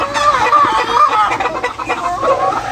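Game farm chickens, hens in the laying area, cluck loudly and close by in overlapping, continuous calls.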